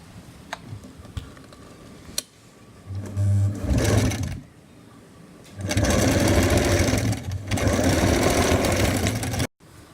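A sewing machine stitches along a folded line on a long gown in several loud runs. Short pauses fall between the runs, with light ticking and handling noise in the gaps.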